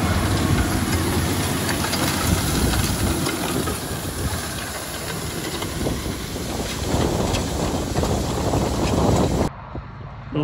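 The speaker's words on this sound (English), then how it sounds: "The tractor's basically on the tick over." A tractor engine idling on tick-over on a muddy farm during drilling: a low, steady rumble with a hissing, rattling texture runs continuously up close, then cuts off abruptly near the end.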